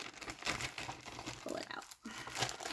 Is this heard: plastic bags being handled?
yes